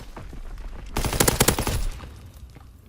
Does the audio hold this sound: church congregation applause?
no